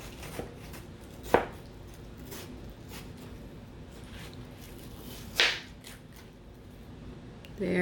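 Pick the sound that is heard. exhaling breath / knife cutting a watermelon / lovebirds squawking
knife cutting a watermelon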